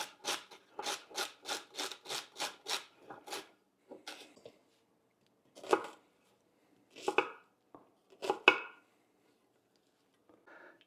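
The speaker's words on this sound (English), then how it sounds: "We're going to chop those up pretty coarse" A knife chops carrots, celery and onion coarsely on a cutting board, first in a quick run of about ten even strokes, then slower, scattered chops with pauses between them, close and crisp.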